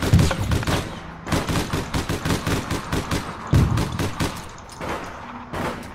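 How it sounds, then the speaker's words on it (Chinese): Rapid gunfire rattles at a car in the online shooter APB, with many close bursts of shots fired in quick succession and a few short pauses between volleys. "佢射紧架车喎"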